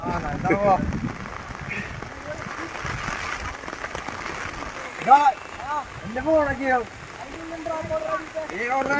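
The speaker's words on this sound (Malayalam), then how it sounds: "അവിടെ നിന്നൊക്കെ മഴ നന്നായി പെയ്തു വരുന്നുട്ടാ" Rain patters steadily in the background while people talk and call out over it, voices coming and going near the microphone.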